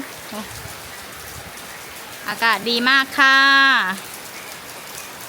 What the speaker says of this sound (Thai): เรากินข้าวอยู่บนนี้เราพอฝนมันพะลงมาเลย เปียกไปเลย